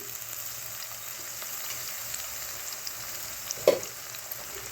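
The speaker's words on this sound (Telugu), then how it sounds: "సన్నగా తరిగిన ఉల్లిపాయలు వేసేసుకుని ఒకసారి వేయించేసుకోవాలండి" Thinly sliced onions frying with green chillies in a pan give a steady, faint hiss and sizzle, with one brief clack of a utensil near the end and no talking.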